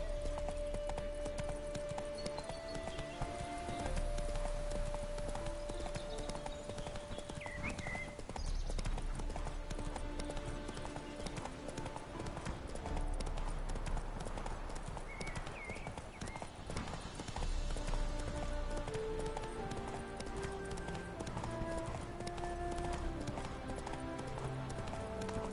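Hoofbeats of the horse Roach galloping in The Witcher 3: Hearts of Stone form a steady clip-clop over game music, with a brief whinny, and the sound holds at an even, fairly loud level throughout.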